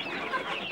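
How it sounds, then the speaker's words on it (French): Young chicks and grown chickens cluck and peep together inside a henhouse, a brief busy burst of overlapping bird calls at moderate volume. "Et là nous avons des poussins un peu plus jeunes."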